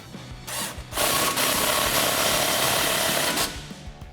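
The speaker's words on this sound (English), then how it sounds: "tighten down our bolt with a 21mm socket" A 21mm socket tightening a control arm bolt on a 2019-2022 RAM 1500 during a leveling kit install, a loud steady mechanical whirring burst of about two and a half seconds, likely from a power tool, with no talking.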